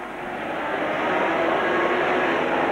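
A Bell Jet Ranger helicopter flies over a 1983 sidecar grand prix at Mount Panorama, Bathurst, its steady broadband rotor and turbine roar building in loudness and then holding constant.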